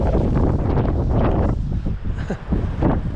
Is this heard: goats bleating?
no